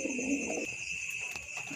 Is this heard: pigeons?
yes